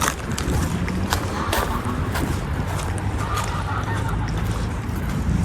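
Geese honking beside a lagoon in Três Lagoas, Mato Grosso do Sul, Brazil, scattered calls over steady outdoor background noise, with water and ambient sound throughout.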